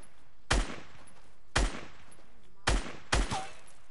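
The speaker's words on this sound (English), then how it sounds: "I'm shooting that llama right now" Four loud, sharp gunshots spaced about a second apart from a weapon fired at a llama in a video game, each a sudden broadband crack with a short decay over a quiet background.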